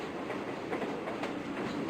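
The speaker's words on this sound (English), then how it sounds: "We board the subway train without having to wait for too long." Steady rumble and rhythmic clatter of a subway train riding along the rails in the visual novel Fox Hime, continuous and fairly loud with no voices.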